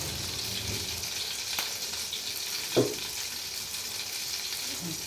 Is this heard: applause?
no